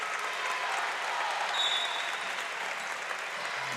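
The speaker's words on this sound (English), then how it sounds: "Nice round of applause for number 50, Ethan Butcher" A crowd at a Botkins vs Ansonia boys high school basketball game claps steadily for a senior player leaving his final game, continuous gym applause from start to end.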